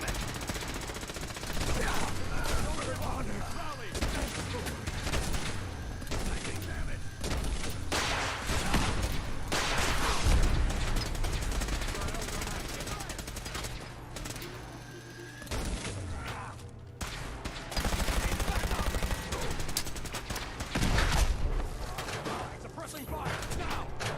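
Rapid automatic gunfire from the Fallout 4 video game crackles in dense bursts and sustained volleys, mixed with mechanical clanks and game sound effects.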